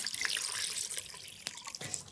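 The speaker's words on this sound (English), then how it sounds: "Next we add water." Water pours and trickles into sourdough bread dough, a faint, close splashing with a few brief drips and gurgles, no talking.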